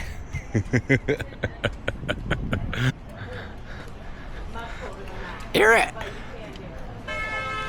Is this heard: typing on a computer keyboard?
no